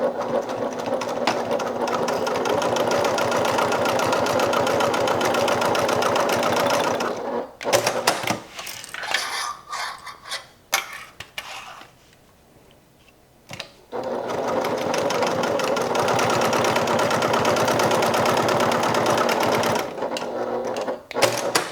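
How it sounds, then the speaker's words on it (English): A sewing machine stitches the side edges of a crossbody bag, a steady whirring run, a pause with light handling noises, then another long stitching run. "I'm just going to go ahead and stitch these side edges."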